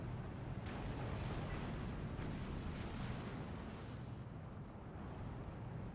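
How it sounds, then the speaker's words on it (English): Sustained artillery rumble and blasts from a Steel Division 2 battle, dense, continuous booms rolling together at steady loudness throughout, with a few sharper cracks near the start. "Arty now aggressively targeting things"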